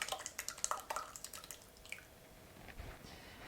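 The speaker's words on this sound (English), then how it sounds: "I'll ladle some curds because they really seem to be breaking up when I pour them" Soft tofu curds set with gypsum, nigari or Epsom salts are poured into a sieve, making quick wet drips and splashes that fade into a faint trickle, quiet and close.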